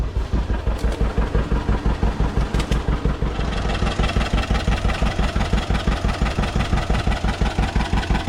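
A vehicle engine idles and runs with a steady rhythmic chug while a Minneapolis Moline corn sheller is driven out, loud and close throughout.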